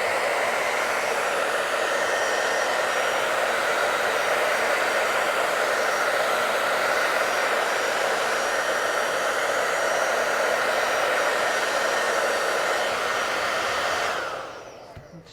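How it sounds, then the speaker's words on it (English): A hair dryer blows steadily on wet paint on paper, a loud, constant close whirring drone that cuts off near the end, with no talking. "something else that you have from home, just to make it go a bit faster, is a hairdryer"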